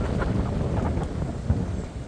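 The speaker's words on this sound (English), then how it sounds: "it's too windy to have your camera out here" Strong wind buffets a camera microphone outdoors in Tulsa, a loud continuous low rumble with gusty surges throughout, including a sharper blast near the middle, with no talking.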